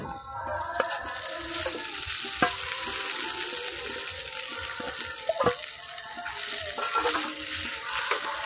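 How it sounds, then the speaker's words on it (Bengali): Sabudana (tapioca pearls) frying on low heat for laddu while being stirred constantly, a continuous soft sizzle with steady scraping and occasional light clicks from the spoon, close and without voices. "সাবুদানাগুলো হালকা আঁচেই কিন্তু এইরকম সময় নিয়ে ভেজে নিতে হবে। হালকা আঁচে অনবরত নাড়াচাড়া করতে হবে।"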